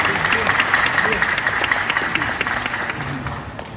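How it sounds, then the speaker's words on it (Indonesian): An Indonesian public lecture audience in Gorontalo breaks into steady, dense applause, many hands clapping together close and loud, with a speaker's voice heard over it. "Tepuk tangan sendiri."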